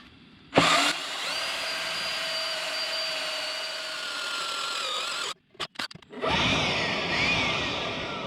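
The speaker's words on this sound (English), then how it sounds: "I gotta drill it out and retap it" A power drill drilling out a broken Harley exhaust bolt whines steadily for several seconds, briefly stutters and stops, then spins up again, close and loud without speech.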